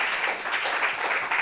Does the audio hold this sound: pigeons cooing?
no